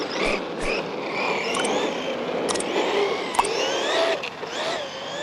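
An Arrma Quake RC car accelerates hard at a skate park with a continuous high-pitched electric motor whine that climbs and shifts in pitch, staying loud and close with a few brief clicks and knocks.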